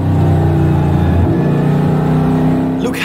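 Race car engine in a racing video game, a loud steady drone that drops in pitch partway through, then a rising whoosh at the end.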